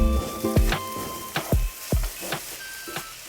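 Spices sizzle and fry in a pan for a coconut, sugar and salt masala for Bengali vegetable chops, with bursts of scraping and stirring at a steady rhythm over a constant hiss; close and fairly loud, no talking.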